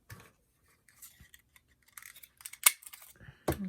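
Scissors snip a small circle from a piece of leftover craft material, heard as a few quiet, close cutting clicks and rustles with one sharper snip near the middle and another at the end.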